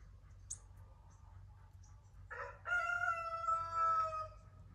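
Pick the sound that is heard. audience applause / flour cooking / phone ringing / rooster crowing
rooster crowing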